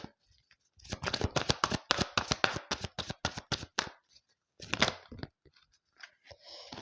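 Tarot cards are shuffled close up in a quiet room, a rapid run of crisp riffling flicks for about three seconds, then a brief second burst and a few soft card handling sounds.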